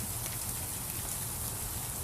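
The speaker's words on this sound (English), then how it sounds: "Yeah, now it's raining ice." Ice rain falling outdoors on a school morning, a steady, dense hiss of pellets striking surfaces, continuous and even throughout with no voices.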